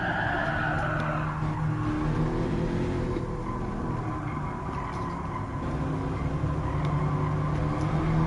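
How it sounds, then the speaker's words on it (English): Car tires squealing and skidding through a drift in the racing game Gran Turismo Sport, a steady engine drone with tire screech running throughout, close and continuous, no talk. "Oh, drifting."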